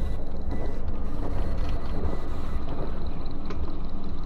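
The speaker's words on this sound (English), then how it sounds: "It's a printer." A printer in SCP Containment Breach running with a steady mechanical whir and low rumble, loud and continuous, with faint clicking ticks and no voices.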